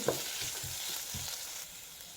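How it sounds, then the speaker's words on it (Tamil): Ginger garlic paste sautéing in a pan while cooking a cauliflower gravy, a steady close sizzle with a few soft stirring scrapes and no voices. "இப்போ இந்த பச்சை வாசனை போகிற அளவுக்கு நல்லாவே இதை வதக்கி விட்டுக்கலாம்"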